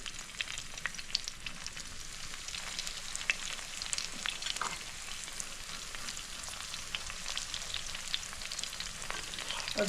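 Alu vadi, colocasia rolls, shallow-frying in a little oil in a pan, a steady soft sizzle and crackle with occasional small pops, faint and close, with no talking.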